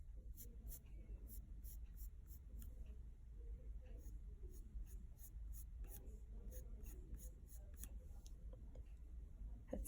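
Chalk pastel dragged across paper while drawing a house plant, soft scratchy strokes in repeated bursts, close and quiet over a low hum, with a faint voice murmuring at times.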